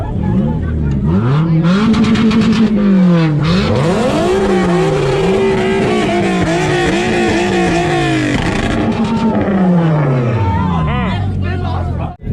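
A car engine bangs and pops rhythmically against a two-step limiter at a two-step competition in Ennis, Texas, loud and close, with a crowd cheering and shouting throughout.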